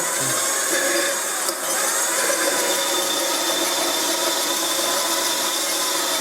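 A steady, loud whine of a band saw cutting continuously at close range, with a brief dip in the middle and no voices.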